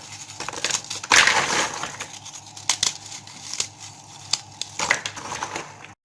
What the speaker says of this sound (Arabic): انا همسك البسكوت كده مكسره، بس قطع كبيره يعني مش هنعمه جامد